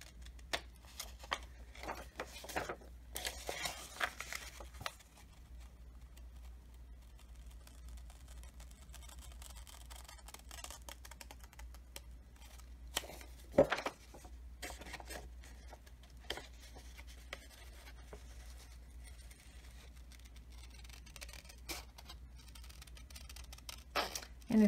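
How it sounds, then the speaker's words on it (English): Scissors slowly close on paper that is rolled around the blades while cutting envelopes and journal tags, making faint, scattered snips and soft paper rustles in a quiet room with a low steady hum. "So I'm holding my scissors steady, and I'm just rolling the paper around and closing the scissors slowly."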